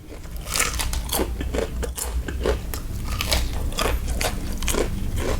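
Crunchy fried chicken is bitten and chewed up close, a rapid series of sharp, crackly crunches over several seconds with no talking.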